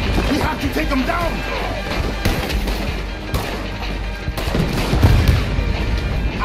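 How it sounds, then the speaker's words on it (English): Gunfire in the Red Dead Redemption 2 video game during a fight against a shooter in a tower, with cannons nearby: repeated sharp shots crackle through a dense, noisy battle din that carries on throughout. "He's shooting! We have to take him down!"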